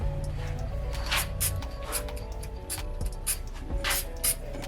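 Can of Dykem Blue toolmaker's layout dye sprayed in several short hissing bursts, close and fairly loud, with brief gaps between squirts over a low background hum.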